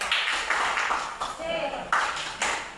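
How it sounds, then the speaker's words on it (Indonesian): A group of teachers at a school counselling workshop claps out a short encouraging pattern, with several sharp, separated bursts. Voices and a faint ringing tone come through between the claps. "Berikan tepuk semangat."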